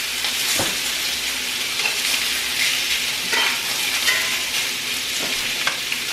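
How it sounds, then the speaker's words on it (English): Meat sears loudly in a hot pan on a stovetop, a dense, steady sizzle held close throughout with faint clinks and scrapes, no talking. "just really searing it. You're not finishing it on the stove."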